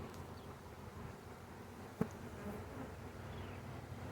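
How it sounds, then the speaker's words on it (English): Honey bee swarm being installed into a hive with drawn frames, a steady close buzzing hum running throughout with a single sharp tap or knock near the middle. "Lots of bees."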